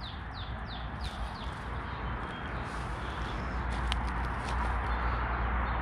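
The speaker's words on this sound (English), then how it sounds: "We've got sparrows saying hi to us quite a lot there." Sparrows chirping outdoors beside a cliffside plant nursery, a quick run of small rising chirps at the start followed by a few scattered calls over a steady, loud background wash.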